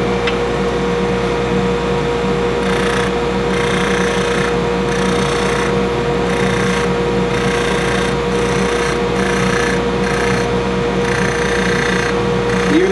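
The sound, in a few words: carbide tool cutting metal ring on woodturning lathe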